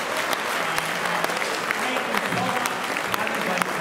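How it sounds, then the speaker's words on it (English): Sustained crowd applause at a 50th high school class reunion, a dense, even wash of clapping with occasional sharper claps standing out, and voices murmuring underneath. "So I think we should give a big round of applause to each other."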